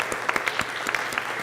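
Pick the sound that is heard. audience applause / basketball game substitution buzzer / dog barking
audience applause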